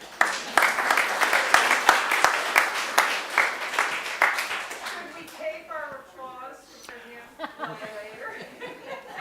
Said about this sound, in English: Yes, that's applause-worthy.